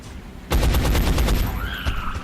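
Rapid burst of gunfire from XCOM: Enemy Unknown, a loud run of close evenly spaced shots lasting over a second after a quiet start, followed by a high whine and trailing sounds.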